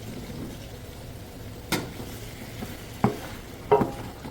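Chopped red pepper cooks with garlic and herbs in a pan, a faint, low sizzle running steadily underneath a few sharp clinks and scrapes of a utensil against the cookware.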